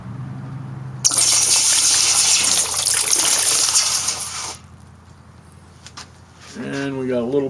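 Molten silver at close to 1,000 C is poured into water to form shot, making a loud sustained gushing, hissing rush that cuts off abruptly after a few seconds, followed by quieter bubbling and then a voice speaking.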